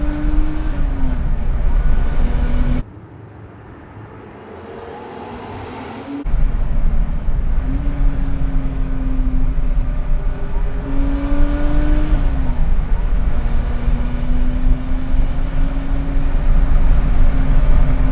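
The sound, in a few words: turbo car engine downshifting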